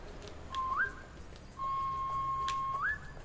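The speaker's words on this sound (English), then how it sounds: "We also have a whistle." A whistle blown in the Beasts of Maravilla Island video game, heard as two clear tonal blasts that each end in an upward swoop. The first is short and the second is longer and sustained, both fairly loud over a quiet game background.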